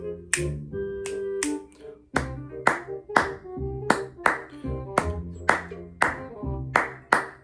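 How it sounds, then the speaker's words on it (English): Sharp hand claps tapping out a syncopated bossa nova clave pattern, crisp and close, repeating steadily with uneven spacing between strikes over several cycles and no speech. "There's a bossa nova clave."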